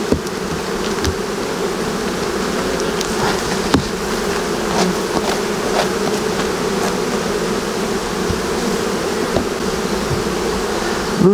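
Honey bees swarming around a hive at an apiary during honey harvest, a loud continuous close buzzing drone with individual bees darting past the microphone.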